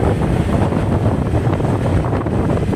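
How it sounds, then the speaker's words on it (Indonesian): Strong wind buffeting the microphone of a rider on a motorcycle in North Jakarta around Tanjung Priok: a loud, continuous rushing roar that stays steady from start to finish, with no voices. "anginnya tuh mulai agak kencang dikit"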